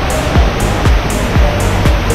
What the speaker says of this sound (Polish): teraz działa nasz wodospadzik